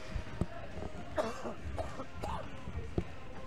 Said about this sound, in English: Fighting a cough here.